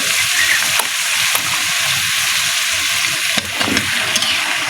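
Fresh bottle gourd pieces sizzling in a hot pan for a home-style Bengali dish, a steady close frying hiss broken by a few sharp stirring clatters.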